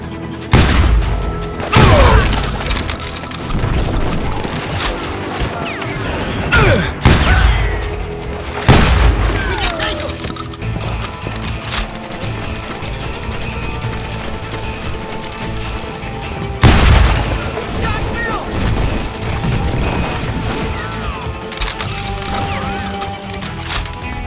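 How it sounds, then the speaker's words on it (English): Gunfire in the Western video game Call of Juarez: Gunslinger: scattered loud booming shots spaced several seconds apart, some in quick pairs, with echoing street ambience and shouting voices in between. "They're shooting in the street!"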